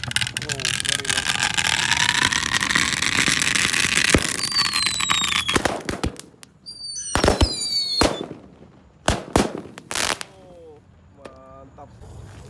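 Mercon firecrackers, including Super Kaget, Happy Power and Disko types, go off inside a water gallon: a loud fizzing, whistling burn followed by several sharp, echoing bangs and squeals, with people talking.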